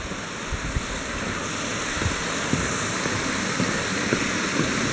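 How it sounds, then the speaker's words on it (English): Steady rushing water fills the scene, a broad continuous roar of flow spilling over a small dam at Spring Mill State Park in November, close by with no voices. "And just listen to that water."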